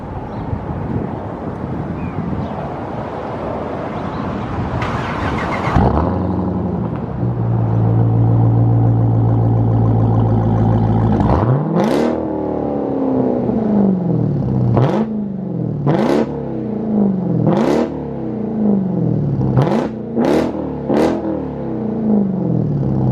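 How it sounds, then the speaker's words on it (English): A Jeep Trackhawk on its stock exhaust idles, then settles into a low steady drone before being blipped through a series of sharp, loud revs that rise and fall one after another, close to the microphone with some wind noise. "I'm finna give y'all one last rev with the stock exhaust."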